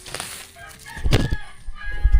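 Chickens cluck and squawk close by in short bursts, with a rustle or flap of wings among them.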